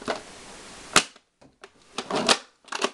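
A worn, older toy foam blaster fires a single sharp snap followed by a few softer clicks and rattles of the mechanism, close and alone with no talking.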